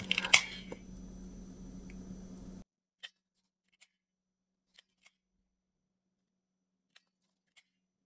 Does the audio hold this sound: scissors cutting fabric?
yes